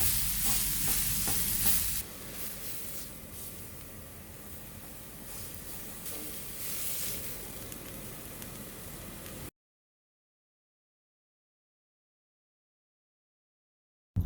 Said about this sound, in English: Make sure that you brown the sides of the meat also.